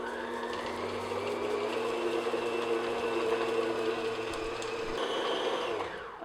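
Electric mixer on medium speed beating shortbread dough in a bowl, a steady continuous motor whir with a constant hum held for about six seconds, close and fairly loud, no talking.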